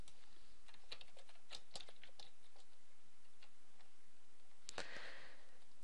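Light keystrokes on a computer keyboard while a term is typed into a search box, irregular taps at a quiet, close level, with a louder cluster of clicks near the end.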